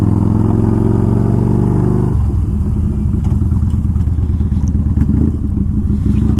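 Yamaha 950 motorcycle engine revving hard and accelerating up through the gears, a loud, steady roar close by that drops pitch at a gear change and then climbs again.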